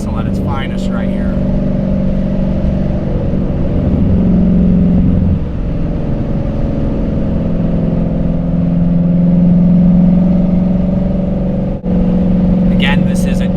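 A Dodge Challenger Redeye with a Demon drivetrain and transmission roars hard under full acceleration, its loud exhaust swelling and holding a deep drone across several pulls. Engine noise dominates, and a brief voice cuts in near the start and end.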